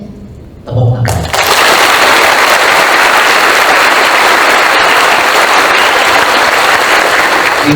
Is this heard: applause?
yes